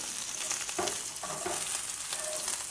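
Lamb fat sizzles and spatters in a hot frying pan as it browns, a steady dense crackle with a few brief stirring clanks over about three seconds and no voices.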